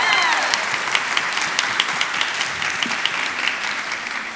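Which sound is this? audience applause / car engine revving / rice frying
audience applause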